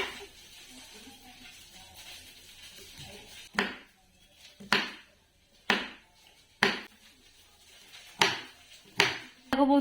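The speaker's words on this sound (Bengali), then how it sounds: "আগে চলো পনিরটা কেটে দিই" A knife cuts through chilled paneer on a board in a series of about seven sharp, evenly spaced chops, close and distinct, after a quieter stretch of faint kitchen noise.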